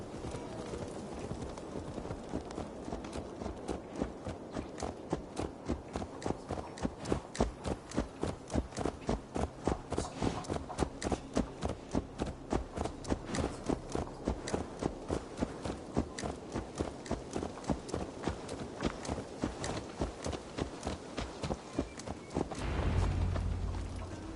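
A horse in Assassin's Creed Valhalla gallops at a steady, fast rhythm, its hooves clip-clopping loudly and evenly for about twenty seconds before slowing at the end, with no talking.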